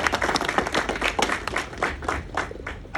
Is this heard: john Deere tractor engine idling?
no